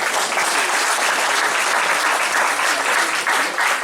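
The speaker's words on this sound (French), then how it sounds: "Je vous invite à les applaudir encore." A Christmas party audience claps steadily in a dense, loud, unbroken wash of applause that holds its level throughout without fading.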